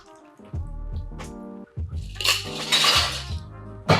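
A gimlet cocktail is double strained into a chilled coupe glass: a brief splashy pour of liquid comes close up, surrounded by light clinks of glass and bar tools.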